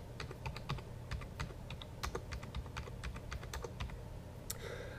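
Rapid keystrokes on a computer keyboard as an IP address is entered, with irregular clicking taps over about five seconds above a steady low hum, close and clear with no talking.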